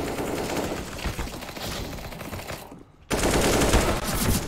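Dense, continuous automatic gunfire from a round of the video game CS:GO, loud and rapid, breaking off briefly into near silence before the firing resumes.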